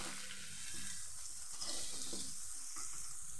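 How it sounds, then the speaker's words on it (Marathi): Ground spices, garam masala, coriander powder, turmeric and red chilli powder, sizzle in hot oil in a pan as they are stirred for shahi paneer masala, a soft steady crackle with faint scraping. "याला छान मिक्स करून घेऊ."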